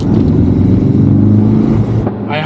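A Ford Focus RS engine roars close and loud under heavy revving, with strong intake and air filter noise, then drops off abruptly near the end.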